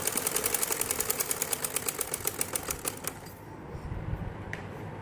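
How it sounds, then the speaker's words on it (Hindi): A sewing machine stitches the fitting seam on men's Bermuda shorts, running in a fast, even rhythmic clatter for about three seconds before stopping, followed by faint handling noises. "ये देखें, अब मैं इसकी सिलाई करने लगी फिटिंग की"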